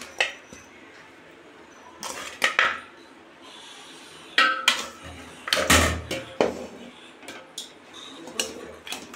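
Pieces of mutton being set one by one into a pot for biryani, giving a string of irregular clinks and soft knocks of metal and utensils, close and moderately loud, with quiet pauses in between.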